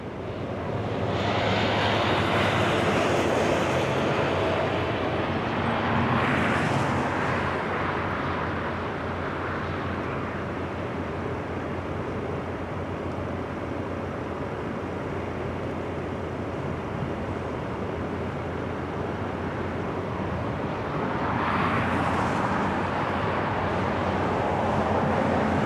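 A military aircraft taxis at Fort Worth Naval Air Station Joint Reserve Base, its jet engine holding a steady, broad roar that swells near the start and again near the end, heard outdoors from a moderate distance with no voices.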